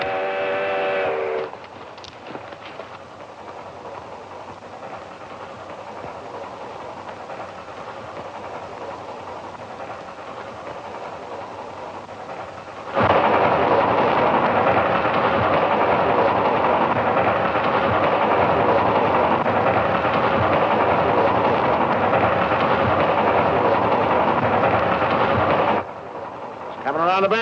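A steam train approaches in an Old West setting, a low rumbling roar that swells sharply halfway through and holds loud and close, with a brief whistle-like tone at the very start.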